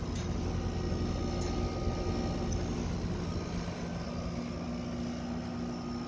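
A freshly cleaned HVAC condenser unit with dirty coils rinsed off runs with a constant, even broadband whoosh of fan air and a steady low motor hum, unchanging throughout.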